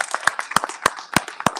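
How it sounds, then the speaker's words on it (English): Claps from a small audience at a high school basketball media day, a few loud distinct hand claps standing out over a light, scattered patter for under two seconds. "let's give them a round of applause"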